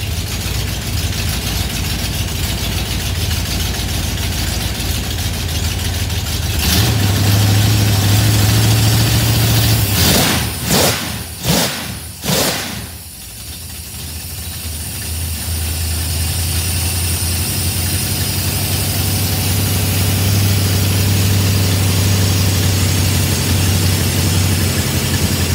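A cold car engine with FiTech fuel injection idles with a steady low rumble, briefly disturbed by a few clunks and a dip partway through before settling back to its even drone.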